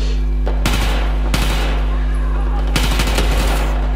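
Automatic gunfire in the Battlefield 4 video game at night, with three loud rapid bursts of rattling shots over a constant low engine-like drone, close and punchy, separated by brief pauses.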